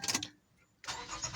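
A 2005 Toyota Avalon's engine cranks and catches near the microphone, a short starter whir followed by a pause and then the engine firing into a steady running sound, with no talking.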